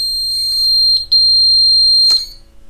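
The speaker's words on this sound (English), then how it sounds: "We've also got channel 8, by the way, configured on a switch here because that's the lost model alarm." Lost model alarm on a Pixhawk flight controller drone, a steady high electronic tone with a couple of short chirps and a louder burst near the end, close by with no talk.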